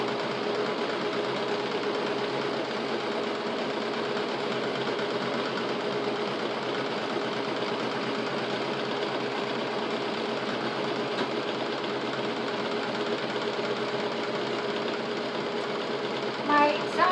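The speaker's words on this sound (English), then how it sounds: "My sewing machine is jumping just a little bit" A sewing machine stitching cushion and mattress covers runs steadily for the whole stretch, a dense, even mechanical whir with a rapid stitching rattle that never pauses; the machine jumps slightly.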